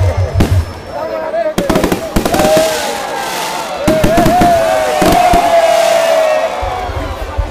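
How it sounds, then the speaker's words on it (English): Fireworks pop and crackle at a Zanzibar Revolution Day celebration outside Stone Town, Tanzania, with sharp bursts in clusters, a whistling rise and a crowd's noise beneath. "It's kind of fun to talk about revolutions while watching the fireworks."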